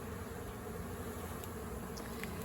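A swarm of honey bees hums steadily as it is moved by hand into a cathedral hive, a constant close buzz with no talk.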